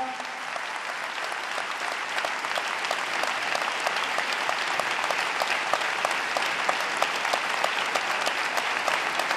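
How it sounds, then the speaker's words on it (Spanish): Audience at the closing of a provincial health congress in Mar del Plata claps in sustained, even applause that fills the room, loud and continuous without pause, with no speech over it. "Así que terminamos este congreso aplaudiendo y felicitando el laburo que han hecho durante 4 días."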